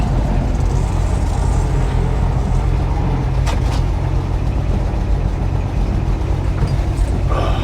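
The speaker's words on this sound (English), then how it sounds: "Oh, this thing sucks backing up without mirrors." A 1957 REO dump truck with a touchy clutch and air brakes, backing up: a loud, steady engine rumble runs close and continuous throughout, with a couple of brief higher-pitched squeaks partway through and no talk.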